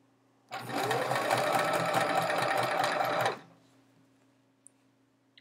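A sewing machine stitches rows of chevron quilt pieces in one steady, fast, whirring run of about three seconds, then stops abruptly, leaving quiet room tone.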